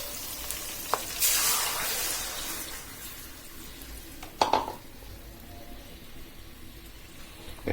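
Soaked spice paste hits a hot pan with a loud burst of sizzling that fades to a gentle, steady fry, with a clack of utensils against the pan partway through.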